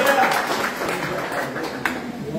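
Church congregation clapping during a Portuguese-language sermon, a steady dense patter of many hands filling the room, with voices mixed in underneath.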